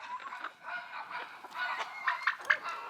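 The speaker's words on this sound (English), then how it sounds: "All the turkeys and the chickens." Turkeys and chickens in a poultry enclosure, a busy mix of clucks and honking gobbles, some close and sharp, others softer, with no talk.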